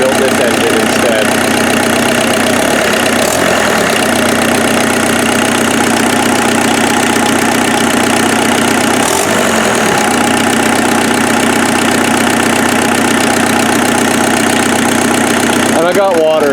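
A rebuilt engine in a Mazda offroad truck idles loudly and steadily close to the microphone, with a constant mechanical rumble and slight knocking texture that runs throughout and swells briefly a couple of times.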